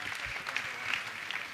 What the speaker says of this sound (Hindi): इन तीनों के लिए जोरदार ताली बजा दीजिए।